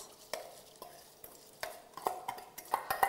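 Rice and thick coconut milk stirred in a pot, soft irregular scrapes and clinks of a utensil against the pot, quiet and close, growing busier toward the end, no one speaking.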